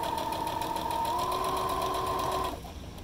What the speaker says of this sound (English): And then I just sewed it together.